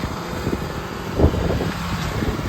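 Ford F-350 4x4 extended cab pickup idling up in four-wheel low, a low rumbling engine with buffeting wind noise across the microphone and a brief louder thump midway; no voices.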